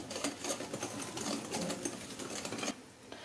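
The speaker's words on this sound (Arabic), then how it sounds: "وغادي نبدا نخلط بالخلاط اليدوي" An electric hand mixer whirs through cake batter, a fairly quiet, steady motor buzz with faint rattling and a brief dip near the end, no voices.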